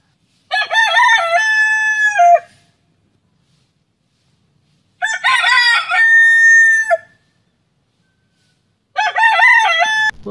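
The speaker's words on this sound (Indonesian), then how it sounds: "Oh, ayam jantan, teman-teman." A rooster in Jurassic World Evolution 2 crows three separate times, each a loud, clear cock-a-doodle-doo of about two seconds with quiet gaps between, and no talk over it.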